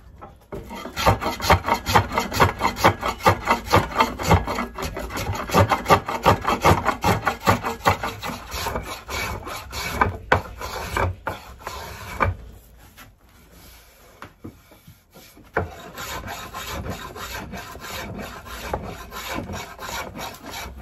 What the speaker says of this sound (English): So we can take our spoke shave here.